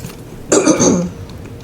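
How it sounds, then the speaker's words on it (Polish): A man who is a bit ill clears his throat and coughs once in a short rough burst, close to the microphone, with quiet background before and after. "czasami mogę kaszleć"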